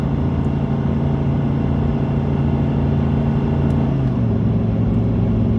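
A truck engine pulling in tow/haul mode on a West Texas highway drones loudly and steadily, with a drop in pitch as it shifts from fifth into sixth of its ten gears, and no talking.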